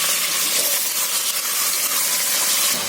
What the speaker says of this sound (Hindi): थोड़ा सा हम भून लेते हैं